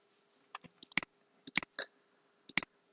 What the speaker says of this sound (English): right click on each device and click on start